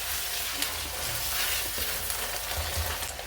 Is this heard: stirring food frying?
yes